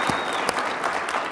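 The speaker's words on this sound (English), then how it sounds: "let's give him a round of applause" An audience claps steadily for a keynote speaker at a cryptocurrency legislation event, a dense even applause filling the hall without a break.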